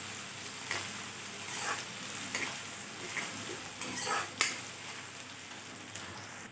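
Onions fry in a pan until light brown, giving a steady soft sizzle with repeated scraping stirs at irregular intervals.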